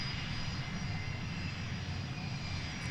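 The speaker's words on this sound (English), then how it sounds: "A little Pilatus getting out there." Small Pilatus aircraft departing Boeing Field, a steady droning engine roar heard at a distance with a faint whine and no voices.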